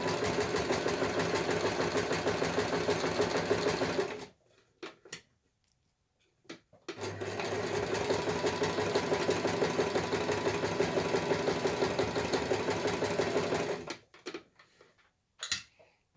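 A sewing machine quilts a hot water bottle cover in two long, steady runs of rapid needle chatter, each stopping abruptly and followed by quiet pauses with small clicks of fabric handling.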